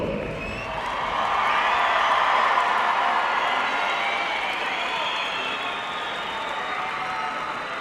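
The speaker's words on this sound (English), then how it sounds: "let's welcome our Parade of Champions with a round of applause" A crowd at a state wrestling tournament gives steady applause with scattered cheers for the Parade of Champions, a broad sustained wash of clapping that swells and then holds evenly.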